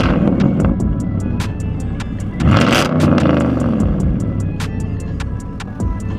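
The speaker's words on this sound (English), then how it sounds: "I want y'all to hear this custom exhaust." A supercharged sixth-generation Camaro RS with a custom exhaust idles loud and close, then revs sharply in one surging burst before settling back to a rumbling idle with rapid ticking clatter.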